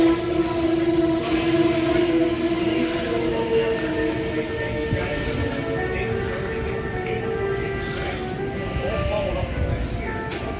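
An Amtrak Northeast Regional train rumbles through Trenton station with a steady low drone and sustained tonal hum, fairly close and continuous, while people talk over it.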